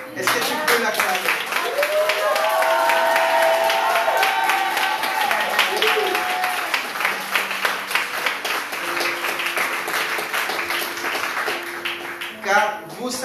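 A church congregation breaks into sustained clapping mixed with cheers and shouts, loud and dense, while a pastor's voice keeps talking above the crowd before the applause tapers near the end.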